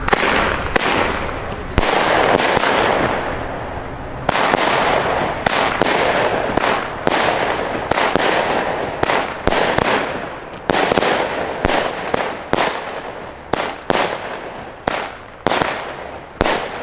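An Argento Goldmarie firework cake with gold crown effects fires a long sequence of loud sharp launches and bursts, irregular at first then settling into a steady rhythm of separate shots with crackling tails.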